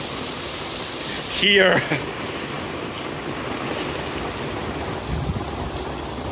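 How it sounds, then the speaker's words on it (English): Heavy rain pours steadily in Portugal while people shelter under an awning, a dense continuous hiss with a short loud noise near the start and a brief word spoken. "is the rain we're having to walk back in"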